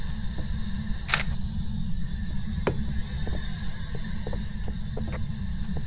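A single sharp camera shutter click from the video game Phasmophobia snaps once early on, standing out over a steady low in-game drone with faint scattered ticks.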